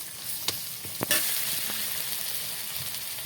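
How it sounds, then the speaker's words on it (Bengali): Onions fry in hot oil in a pan, giving a loud, continuous sizzle and hiss. A couple of sharp clicks from stirring come just before the frying settles into a steady crackle. "এই ভেজে নেব ভালো করে একটু তেল দিয়ে দিচ্ছি"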